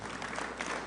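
A room full of Rotary Club members clapping together at a meeting, a brief, dense burst of applause heard from within the audience.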